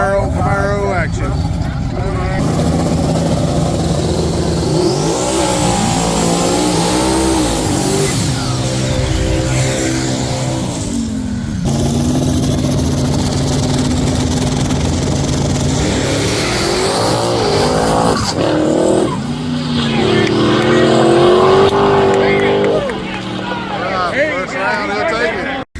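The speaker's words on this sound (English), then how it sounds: "First round, small tire. Got some Camaro action." Camaro drag race cars in a first-round small-tire race, engines roaring loudly and revving up through the run, with crowd babble and talk mixed in.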